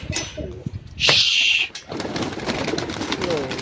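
Pigeons gathered on rooftop perches coo softly near a loft, with a sharp bird call and a flutter partway through, all under someone talking.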